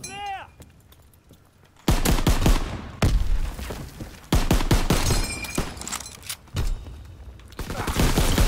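Loud shotgun blasts in a WWII video game, several heavy booming shots spaced a second or two apart, each with a sharp attack and lingering tail, preceded by a quieter stretch.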